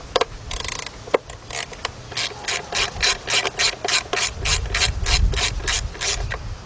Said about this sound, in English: Got my 3/8 drive ratchet.